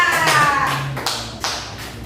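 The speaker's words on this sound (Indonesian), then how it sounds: "Kita beri aplaus dulu untuk Ara" A small group of primary school pupils claps for a classmate in class, a short burst of taps close by that fades out after a few separate strikes.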